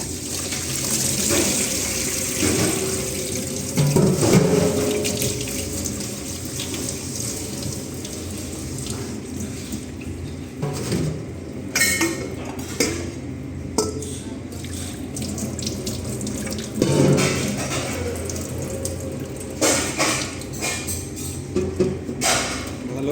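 Tap water runs and splashes over salted bitter gourd in a strainer at a kitchen sink, a continuous rushing flow with bursts of louder splashing and handling.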